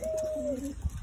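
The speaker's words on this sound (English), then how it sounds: "I gotta separate these birds." Caged pigeons, flying birds kept in a loft, give a soft, close coo with a low, steady warble and a little shuffling underneath.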